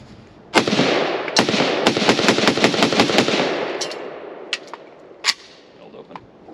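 A Romanian Nova CGR AK rifle fires at an outdoor range, a fast burst of sharp, loud cracks followed by scattered single shots echoing nearby.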